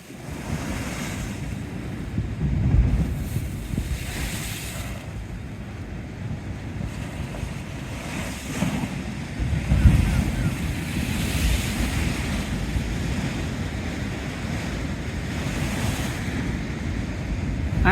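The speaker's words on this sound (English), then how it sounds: "Angry sea." Rough sea waves crash and surge against a damaged pier at a windy seafront, a loud continuous roar with heavier swells rising every few seconds and gusting wind buffeting the microphone.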